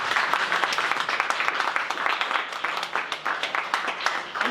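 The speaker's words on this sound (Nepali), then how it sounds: "हामी ताली बजाएर त्यो पवित्र परमेश्वरलाई प्रशंसा गरौँ" A church congregation clapping in praise during a Saturday service, sustained brisk clapping from many people at moderate volume, with faint voices mixed in.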